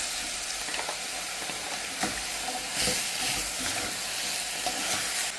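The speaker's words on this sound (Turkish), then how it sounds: "Bal kabağı ekliyorum. Hem ekliyorum hem karıştırıyorum." Pumpkin being stirred into fried minced meat in a hot pan: a continuous loud sizzle and hiss with occasional scraping knocks of the spoon against the pan.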